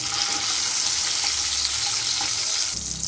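Whole cut tomato and two bay leaves dropped into hot ghee in a pan, giving a steady, loud hissing sizzle that lasts throughout with a slight shift near the end.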